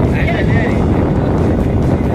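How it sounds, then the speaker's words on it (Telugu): Sea waves striking a boat at sea, a loud, continuous wash of water and wind rumble pressing close against the hull for the whole stretch. "ఈ సముద్రం అలలు తాకిడి చాలా ఇబ్బంది పెడుతుంది"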